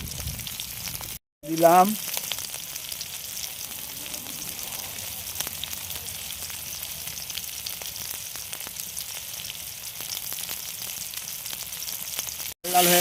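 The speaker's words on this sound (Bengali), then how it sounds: "দিদি এবার পেঁয়াজটা ভেজে নিচ্ছি।" Onions fry in a pan with a steady, close sizzle that runs almost unbroken, briefly cut by two short gaps; a voice speaks over it near the start and again at the very end.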